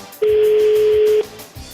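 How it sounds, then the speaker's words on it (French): A single steady telephone ringing tone sounds for about a second, clear and close, then stops. "Deuxième sonnerie."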